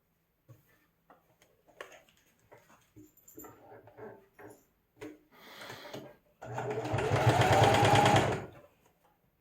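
A sewing machine runs in one steady burst of rapid stitching while face masks are sewn, following a few seconds of scattered handling clicks and rustles.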